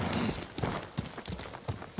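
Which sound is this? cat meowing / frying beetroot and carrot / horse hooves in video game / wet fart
horse hooves in video game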